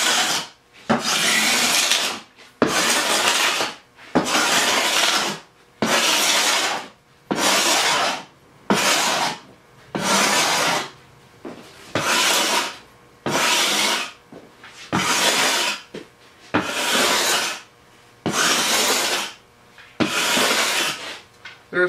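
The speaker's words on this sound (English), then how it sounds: "scrape the glue off of both sides" Hand scraping of dried glue from mahogany boards, a steady series of about fourteen loud rasping strokes, each roughly a second long with short pauses between, close by and with no talking.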